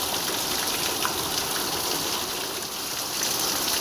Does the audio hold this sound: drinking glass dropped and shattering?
no